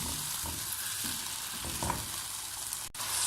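Boiled mutton for a balti karahi sizzling in a pan, a steady close hiss of frying with a few soft stirring scrapes, no voices.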